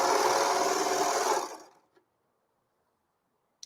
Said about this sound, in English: My blade is going to cut the extra fabric that I have there.